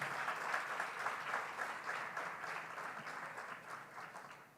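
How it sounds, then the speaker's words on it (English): Delegates at a World Vision Uganda anniversary event in Uganda give the Prime Minister a sustained round of applause, a fairly distant, even patter of many hands that slowly fades over several seconds. "Another big round of applause."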